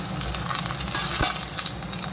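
Four kinds of spices fry with garlic in a pan, giving a dense, continuous sizzle and crackle. Faint stirring scrapes sit under the sizzle, which stays close and steady throughout with no talking.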